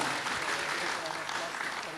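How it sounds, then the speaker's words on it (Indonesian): Audience applause at a Buddhist vihara talk show in Indonesia, a dense continuous wash of clapping from a crowd, steady and fairly loud throughout. "Tepuk tangan buat Tasvan Santacita"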